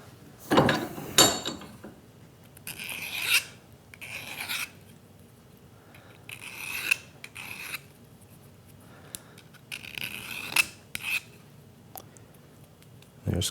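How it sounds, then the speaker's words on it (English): A small file scrapes the sharp edges off a machined metal clamp in a few short bursts of rasping strokes separated by quiet pauses, close up. "Just going to use a small file here. Take the sharp edges off of it."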